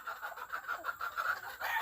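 A gamefowl brood hen clucks in a series of short, nasal calls close by, repeating in an irregular rhythm with no talk over it.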